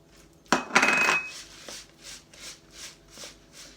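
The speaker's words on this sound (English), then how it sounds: "and then chucking in my cherries" Cherries tipped into a bowl of flapjack oats make a short, close rattling clatter against the bowl, followed by softer scraping and shuffling movements.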